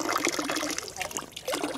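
Clean mountain water runs from a fountain in Thun, Switzerland, a steady close splashing trickle that fills the short moment without any voices.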